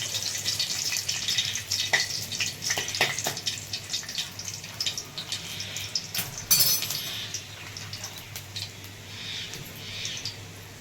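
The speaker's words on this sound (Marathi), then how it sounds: "तर आता लसूण टाकायला ठेवलेला आहे तेलामध्ये." Garlic fries in hot oil in a pan for dahi bhindi, a steady close crackling sizzle with scattered pops and a few light clinks of a utensil against the vessel, no talking.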